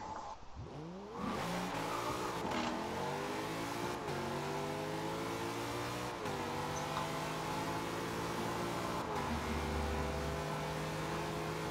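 Chevrolet engine revving hard in a Forza Horizon 2 drag race, accelerating through repeated gear shifts with rising and falling pitch, loud and continuous for several seconds with no voices over it.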